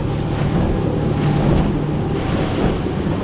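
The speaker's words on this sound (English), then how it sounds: "Bumpy boat ride so far." Small fishing boat bumping over waves on overcast water, with loud continuous wind buffeting the microphone, rushing water and engine drone mixed together with no talk.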